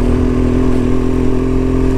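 A motorcycle engine drones steadily at close range, a continuous buzzing hum with no pauses or voices.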